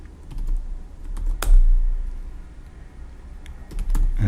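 Python code typed on a computer keyboard, close and crisp key clicks in irregular bursts with short pauses between, no talking.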